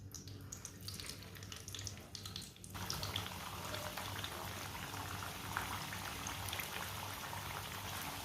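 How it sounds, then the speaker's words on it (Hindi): Kebabs are dropped one by one into hot oil, and after a quieter start a loud, steady sizzling and bubbling fry sets in and holds without a break. "ऑयल हमारा अच्छी तरह गर्म हो चुका है। अब एक एक करके कबाब डाल लेंगे।"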